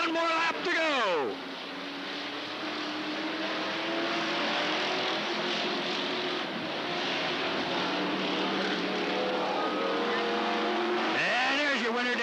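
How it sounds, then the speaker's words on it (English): Dirt track race cars roar around Cottage Grove Speedway in 1991 on the final lap, a dense, steady engine drone with cars sweeping past near the start and end, and a race announcer talking over it. "Dan Provost, Vern Guth, Scott Queener, one more lap to go"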